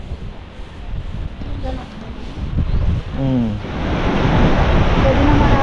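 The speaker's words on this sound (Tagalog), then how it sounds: "Malalaki ang alon." Big ocean waves surging and washing near Mantigue Island off Camiguin, a broad rushing roar that builds louder toward the end with wind buffeting, brief voices heard faintly under it.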